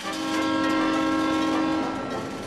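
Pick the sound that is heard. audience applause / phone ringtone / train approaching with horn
train approaching with horn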